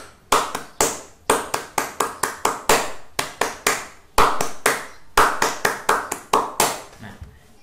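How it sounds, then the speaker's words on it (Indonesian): Scout-style rhythmic hand clapping in a patterned sequence of sharp, close claps grouped into quick runs and single beats, repeated in bursts with short pauses between phrases. "Cobalah kalian ikuti tepuk tangan pramuka"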